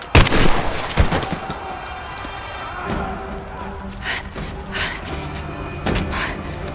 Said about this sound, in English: Finally, we got a shotgun.